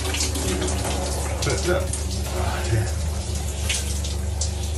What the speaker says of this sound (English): wonderful, wonderful hot shower, piping hot